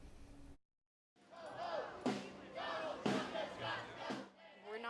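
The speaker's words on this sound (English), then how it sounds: "A large crowd gathered in downtown Knoxville to raise their voices" A large protest crowd in downtown Knoxville raises its voices in repeated loud, ragged bursts of shouting and chanting, with a brief silent gap near the start.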